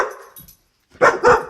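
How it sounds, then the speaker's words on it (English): Pet dog barking at a squirrel seen through a window indoors, two loud close barks after a brief whine, with no talk over them. "my dog just saw a squirrel at the window"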